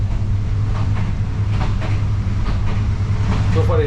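A passenger train runs through Kenya with a steady low rumble and rattling carriage noise heard from inside, loud and continuous, with a faint voice partly under the din.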